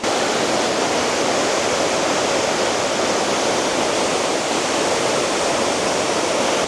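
Kongala waterfall roars as a dense, unbroken rush of falling water, loud and close, with no voices over it.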